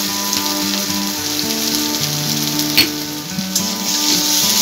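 Turmeric, salt and spices sizzle steadily in hot oil while being sautéed for a fish roe curry, a continuous close frying hiss with a few brief stirring clinks, no talking.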